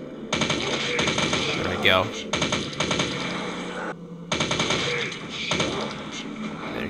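Rapid automatic gunfire in a video game, in loud bursts of crackling shots separated by short gaps, with a voice speaking briefly over the shooting.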